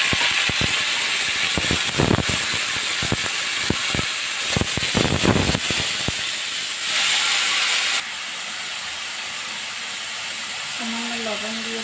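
Fenugreek leaves hit hot oil with spices and fry with a loud hissing sizzle and clattering stirs, then the sizzle drops to a quieter background as a voice speaks briefly near the end.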